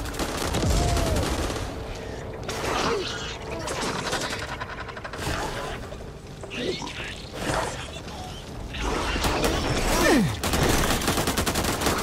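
Gunfire bursts from the co-op zombie shooter Back 4 Blood on Xbox One, repeated shots and fusillades running through the whole stretch under excited talk from players.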